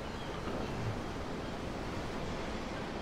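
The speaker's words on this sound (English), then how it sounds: "I'm looking at the ocean. The ocean? Yeah." Ocean waves wash steadily in the Tales of Arise video game, a continuous, even rush of surf noise at moderate loudness with no distinct breaks and no voices.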